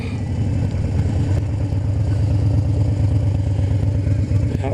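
A 2012 Harley Davidson Super Glide Custom out on a spring ride gives a steady, deep engine rumble that holds an even, continuous drone throughout with no clear revs.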